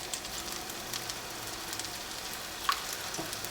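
Plantain slices sizzle in hot oil in a pan on a high stove burner, a steady close crackle and hiss with a few brief louder pops, no talking.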